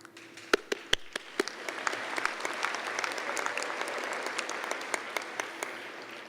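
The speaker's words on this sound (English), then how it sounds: "it's okay to clap as much as you want" An audience applauds at a 2009 MPA commencement ceremony for accounting graduates, with a few sharp, close claps at the start swelling into a sustained, dense round of clapping that holds steady throughout.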